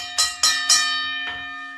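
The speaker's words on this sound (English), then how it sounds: "Let me get you a gong for joining the channel" Three quick metallic gong strikes ring out in close succession, then a fourth softer hit, each leaving a long shimmering tone that fades slowly, played as an alert for a new channel member during a boxing talk stream.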